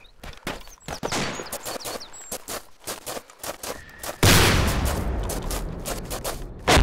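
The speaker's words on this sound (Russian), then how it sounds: "Да, наши вот эти все РПГшки отстреливаются." Arma 2 combat: rapid bursts of rifle and machine-gun fire crackle close by, then a heavy RPG blast erupts into a sustained roar, with another loud shot at the very end.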